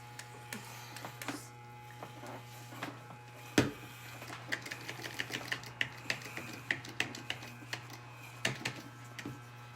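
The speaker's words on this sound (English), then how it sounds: "I am using a number 1 clipper guard" Electric hair clippers fitted with a number 1 guard buzz steadily through a combover haircut, with a constant hum and a run of small crisp clicks and snips as they move through the hair.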